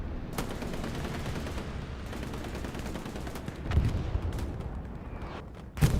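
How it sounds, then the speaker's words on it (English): Artillery fire in the video game Hell Let Loose, a continuous low rumble of distant battle noise with a couple of heavier booming impacts near the end. "Artillery is coming in."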